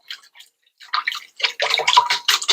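Liquid ingredients for sweet challah dough are whisked in a bowl, producing irregular sloshing, splashing bursts that grow busier and louder toward the end.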